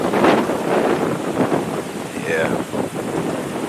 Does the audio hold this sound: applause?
no